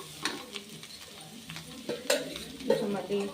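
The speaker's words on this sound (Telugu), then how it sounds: "మధ్య మధ్యలో ఆయిల్ వేసుకుంటూ కలుపుకుంటూ ఉండాలి" Bitter gourd (kakarkai) slices fry in oil while being stirred in a pan, with soft scraping strokes and clinks over a faint continuous sizzle, fairly quiet and close.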